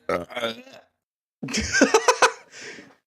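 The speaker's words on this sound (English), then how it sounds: "I burped and it was terrible" A coarse burp after drinking alcohol, heard between bursts of close voiced sound with laughter and chatter around it.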